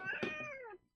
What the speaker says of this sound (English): Yeah, that's my cat.